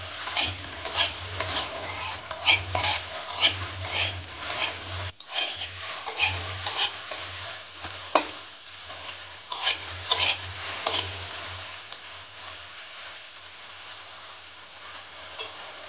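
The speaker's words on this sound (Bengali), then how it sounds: "ঢ্যাঁড়সটা ভেজে নিচ্ছি।" Okra with salt and turmeric frying in a pan, heard mostly as repeated scraping and stirring strokes of a spatula against the pan, close and fairly loud, with a soft low hum underneath.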